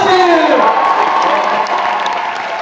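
Large audience at a TEDx event applauding and cheering as a speaker is called onstage, dense continuous clapping with whoops and shouts throughout, loud and enveloping.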